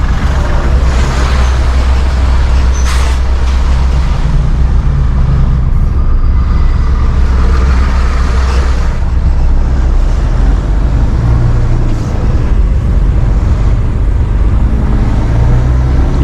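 Heavy road traffic in a jam with trucks and buses, a loud continuous engine and road rumble with a constant low drone that hardly varies throughout.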